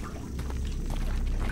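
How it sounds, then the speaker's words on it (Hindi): Water being poured onto a fire in a video game, a steady, continuous splashing, hissing rush that holds at an even, fairly loud level for the whole stretch with no voice over it. "पानी भर गया"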